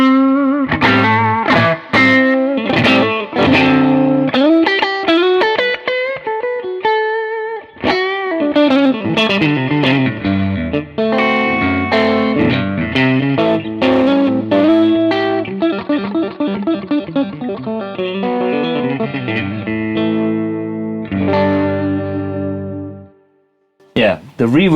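An electric guitar plays chords and single notes through a BluGuitar Amp1 with slight gritty bluesy breakup and built-in digital reverb, steady and close, fading out at the end.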